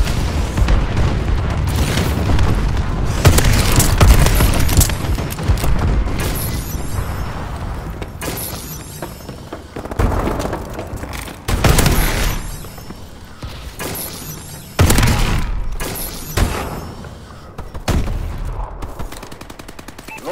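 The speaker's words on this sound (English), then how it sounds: "Friendly bombing run incoming." Heavy explosions from a bombing run and bursts of gunfire in the Call of Duty: Advanced Warfare video game, loud booms and rattling shots repeating in waves throughout.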